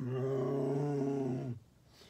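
A person gives a long, low, droning moo in imitation of a cow, held steady for about a second and a half before cutting off.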